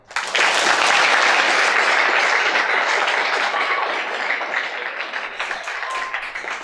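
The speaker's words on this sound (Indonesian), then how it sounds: "Boleh tepuk tangan." Sustained applause from an audience of students at an Islamic boarding school (pesantren) in Indonesia, a dense, even wash of many hands clapping that swells quickly, holds steady, then tapers slightly toward the end, with no talk over it.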